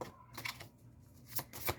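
Tarot cards are shuffled by hand, giving a few quick, soft riffling bursts separated by brief pauses. The sound is faint and close, with no talk.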